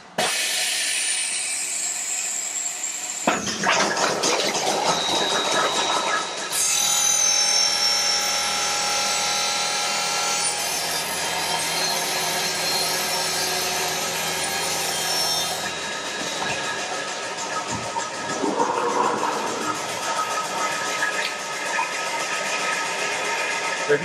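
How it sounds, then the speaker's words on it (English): An ACS 1200 panel saw trims an offcut from a panel with a loud, sustained whine and rasping cut that builds sharply at the start, then holds steady and shifts in tone as the blade runs across. "We've now trimmed an offcut from the panel."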